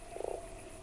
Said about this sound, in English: Ah, there's a frog here.